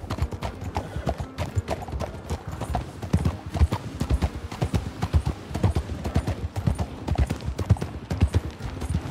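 Steady clip-clopping of a horse's hooves in Red Dead Redemption 2, dense regular hoofbeats close by and fairly loud throughout, with a faint neigh mixed in.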